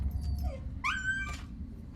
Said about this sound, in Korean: 댕댕이가 놀아달라고 징징거리기 시작하고